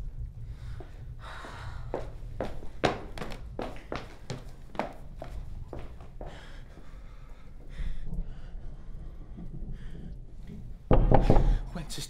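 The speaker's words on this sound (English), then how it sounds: "Whence is that knocking?" Knocking on a door during a stage performance of Shakespeare's Macbeth, a series of sharp raps in uneven clusters, fairly close, with breathy voice sounds between them and a louder burst near the end.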